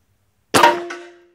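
A single Bulldog .357 airgun shot firing a Lucky Seven 120-grain steel-core slug at 2,500 PSI: one sharp, loud crack with a short ringing tail that fades over under a second.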